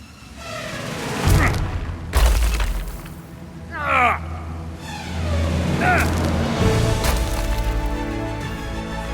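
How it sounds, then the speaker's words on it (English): Cannons fire aboard a pirate ship in the Sea of Thieves video game, heavy booms landing in several separate blasts over rumbling battle noise, with crashing impacts and a voice in between. "Fire the cannons! Fire everything!"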